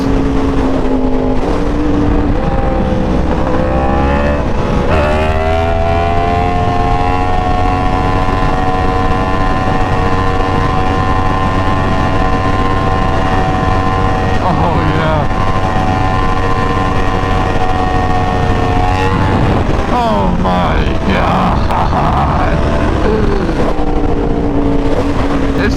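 A new Yamaha R1 sport bike cruises at speed on a highway, its engine a loud, close, sustained whine holding steady pitch with shifts near the start and end, wind rush underneath.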